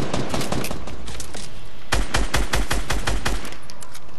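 Mounted machine gun in a multiplayer video game firing rapid bursts, with a stuttering string of sharp reports early on, a brief lull, then a heavier, louder volley, all close and alone without talk.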